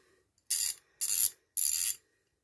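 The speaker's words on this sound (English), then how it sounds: "And suddenly, you've got a low profile ratchet." A USpro low-profile ratchet spanner clicks in three short bursts of rapid ratcheting, close and crisp, separated by brief pauses in quiet surroundings.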